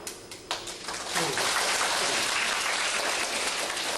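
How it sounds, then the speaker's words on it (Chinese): Dense, steady clapping from a lecture audience swells after a brief quieter start and holds loud and continuous, crowd applause filling the hall for executive Hsu Hao-ting's talk. "大家还是给我热烈掌声。"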